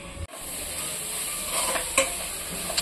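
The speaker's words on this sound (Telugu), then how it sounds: "ఇవి ఇలా ఉడికిన తర్వాత కొంచెం గరం మసాలా, కొంచెం పసుపు, ధనియాల పొడి, రుచికి సరిపడంత కారం వేసుకొని బాగా" Garam masala, turmeric, coriander powder and chili powder fry in a pan for a goat head and offal curry, giving a steady close sizzle broken by a few stirring scrapes and clicks.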